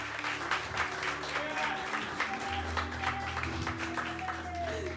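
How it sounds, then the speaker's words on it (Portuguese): Church congregation applauding, a steady dense wash of clapping that runs through the whole stretch, with sustained organ or keyboard tones underneath and some voices mixed in. "Você pode aplaudir o nome do Senhor."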